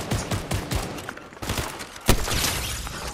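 Gunfire in Fortnite Chapter 5 zero-build duo play: a run of sharp shots spaced through the span with one louder crack standing out near the end, over dense in-game background sound.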